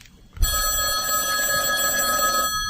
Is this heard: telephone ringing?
yes